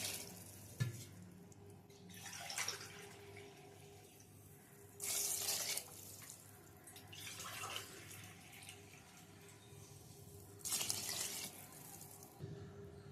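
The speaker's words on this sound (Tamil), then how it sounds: "அதனால் 3 கிளாஸ் அளவு தண்ணி ஊற்றிக்கலாம்." Water runs from a tap into a pot in several separate bursts, each a few seconds long, against a quiet kitchen background.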